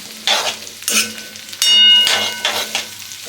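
Curry leaves fry and get stirred in a pan of fish head curry, with soft sizzling broken by several scraping spoon strokes and brief bright crackles, fairly close and with no voices.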